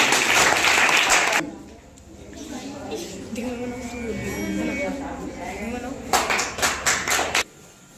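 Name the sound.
loud applause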